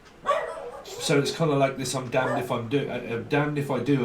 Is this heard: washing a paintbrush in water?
no